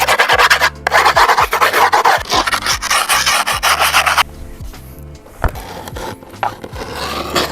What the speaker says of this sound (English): So now I'm just gonna rub some of these edges.